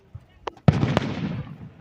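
Independence Day fireworks go off outdoors: a couple of faint pops, then a loud, sharp burst followed by a crackling, rumbling decay and another crack, fairly near, with a voice faintly mixed in.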